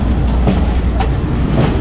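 Train on the Kandy to Ella line in Sri Lanka, a loud, steady rumble with faint rhythmic clatter of the wagons, heard from on board.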